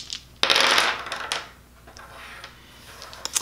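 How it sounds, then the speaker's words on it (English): Five dice from The Castles of Burgundy dice game tossed and clattering onto a table, a sharp burst of rattling followed by a few scattered settling clicks, close and clear with no talk. "So I'm gonna roll all five of these dice."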